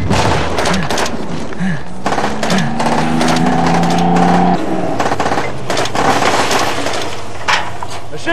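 Rapid bursts of machine gun fire crackle during a Canadian Forces training exercise with an armored vehicle nearby, loud and close, mixed with shouted commands and a rising mechanical whine.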